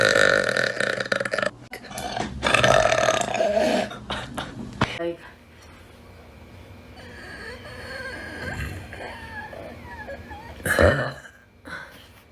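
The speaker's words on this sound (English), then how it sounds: "I got a burp." A girl burps loudly, producing several throaty belches over the first few seconds, then quieter moments with soft voices and a short sharp sound near the end.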